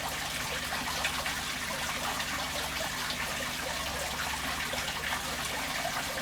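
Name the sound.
water being poured from a bucket for a fish tank water change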